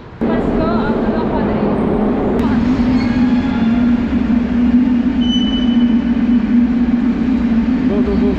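Metro train at Bodomzor station in Uzbekistan, a steady loud rumble of the carriages with a sustained low drone and faint wheel squeal throughout, voices talking underneath.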